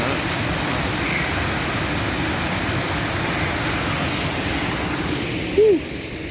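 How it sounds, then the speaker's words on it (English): Upper falls of Qualicum Falls pouring steadily, a dense continuous roar of falling water heard close and loud, with a brief faint sound near the end. "Look at the waterfalls. I guess this is the upper falls."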